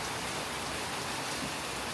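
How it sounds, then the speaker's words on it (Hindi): Heavy rain pours down steadily in Rishikesh, a dense, even hiss of drops hitting surfaces with no talk over it. "देखो बारिश आ गई अभी तेज"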